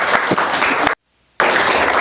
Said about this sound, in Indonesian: tepuk tangan untuk kelompok yang pertama